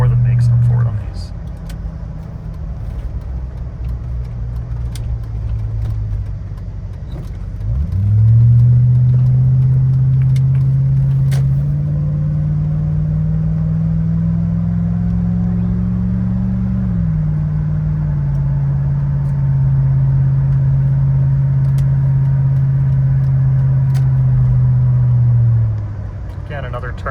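A 1996 Land Rover Discovery engine pulls steadily while driving, a loud continuous low rumble that rises in pitch around a kickdown shift, with talk over it and the drone holding for the rest of the run.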